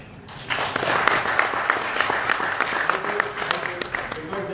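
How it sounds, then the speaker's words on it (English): An audience at a technology session on enterprise architecture claps in a short burst of mixed, overlapping applause, with speech running over it. "So can we just clap twice?"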